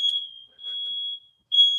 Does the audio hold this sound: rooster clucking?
no